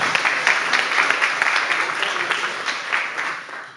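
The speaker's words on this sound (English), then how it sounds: "she deserves a nice round of applause" Warm audience applause at a local-level energy transition talk, steady clapping from a seated crowd that holds level and then tapers off toward the end.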